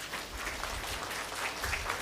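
Audience at an emerging technologies event applauds to welcome the Honorable Minister, a steady wash of clapping held at a moderate, even level through the moment with no voices on top.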